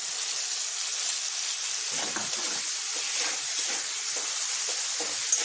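Spice paste frying in hot oil for a taro stem (kochur data) dish: a steady, loud sizzling hiss runs throughout with faint stirring scrapes, no voices.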